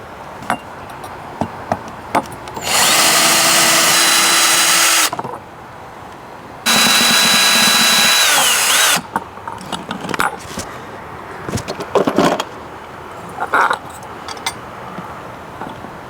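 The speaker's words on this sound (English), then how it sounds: "So the first thing we need to do is loosen up these screws and remove the old light fixture." A power drill loosens the screws holding an old outdoor light fixture, running in two long, loud, steady whirring bursts of a few seconds each, separated and followed by quieter handling clicks and knocks.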